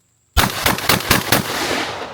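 A Sulun Arms SPAS-12 shotgun fires in semi-auto mode, a sudden loud blast opening a rapid string of about six close, booming shots that ring out into a fading echo.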